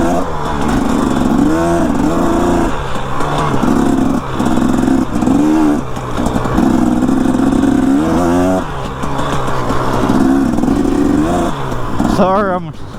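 A motorcycle engine drones steadily while riding, with rising revs several times and wind noise, and a rider talks over it throughout.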